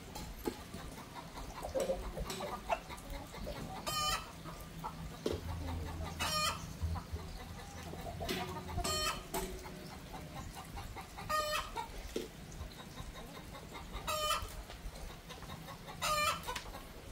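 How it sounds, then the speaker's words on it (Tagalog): Rhode Island Red chickens fed on layer feed cluck steadily in a shaded, breezy farmyard, with repeated loud crowing bursts every couple of seconds over constant flock chatter and no voices. "Yung update tayo sa ating manok na Rhode Island, pinakain ng layer."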